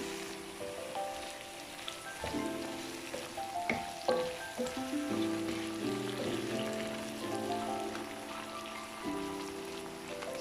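McCain mixed vegetables sizzling in a hot pan with onion, a steady crackling fry broken by stirring scrapes and clatter from close by.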